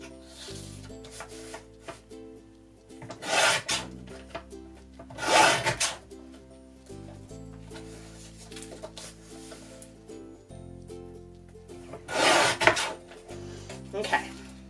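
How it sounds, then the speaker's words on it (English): Scissors cutting off the edge of a paper planner page, with several distinct close snips spaced a few seconds apart over quiet background music. "So I'm just going to cut off the edge here."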